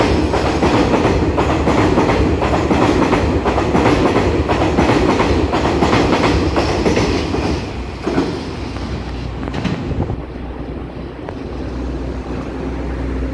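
A three-car DRC diesel railcar set in original livery rolls loudly through Ruifang station, its engines roaring and wheels clattering over rail joints before the sound eases and recedes over the last few seconds.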